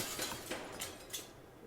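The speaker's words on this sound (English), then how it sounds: "That was a very satisfying glass break." A glass panel shatters in the video game The Voidness, with several bright, crisp breaking bursts spread over under two seconds, fairly quiet overall with no talking.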